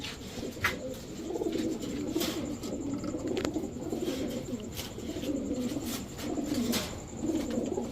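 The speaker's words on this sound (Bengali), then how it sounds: "এখন দেখাবো একজোড়া ঝাঁক গলা কবুতর" A pair of throat-flock pigeons coo steadily with soft, low repeated calls, close by, with faint chirps and background noise behind them.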